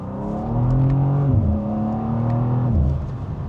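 BMW M2 G87 engine revving as it downshifts, the note climbing and dropping in two distinct steps with a loud, close, steady mechanical drone and no talking.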